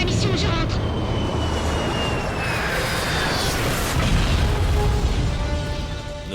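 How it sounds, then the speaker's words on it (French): Film scene of fighter jets being shot down: a dense, continuous roar of jet engines and explosive booms, loud and steady throughout, with faint whining tones and talk partly mixed in. "Nos avions de chasse ont été abattus."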